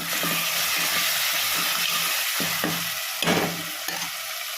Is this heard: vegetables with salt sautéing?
yes